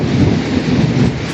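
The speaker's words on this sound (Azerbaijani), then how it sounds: "gördüğünüz kimi yağış yağır, şimşek çaxır, göy guruldayır." A summer night thunderstorm in Qazax: heavy rain pours down with a continuous deep rumble of thunder, dense and steady, no voices.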